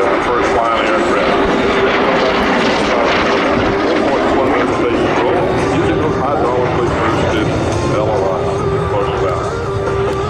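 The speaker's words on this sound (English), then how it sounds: "bring the T-33 back to Airshow Center in a photo pass" A T-33 jet making a photo pass at an airshow, heard as a loud, steady engine roar that fills the whole clip alongside a constant broadband rush. An announcer's amplified voice runs underneath throughout.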